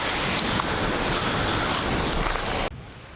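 Steady, dense roar of rushing water from Skógafoss waterfall in Iceland close by, loud and continuous, cutting off abruptly near the end to a quieter hiss.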